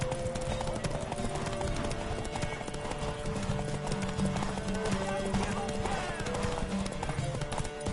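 Horse hooves clip-clop in The Witcher 3 game, a fast, steady run of hoofbeats close and loud alongside whinnies and other in-game sounds, with voices mixed in.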